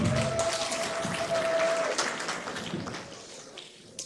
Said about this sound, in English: Another clap for the Secretary General of the Patriotic Front.